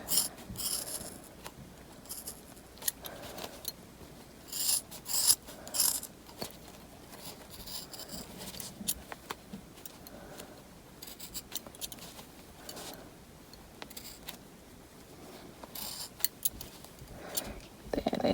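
Scissors snip and notch the corners of fabric, a series of faint crisp cuts and rustling scattered through the clip while someone talks over them.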